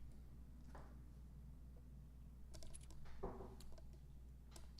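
A command being typed on a computer keyboard: a few quiet keystrokes, then a short burst of clicks near the end, faint against a steady background hum.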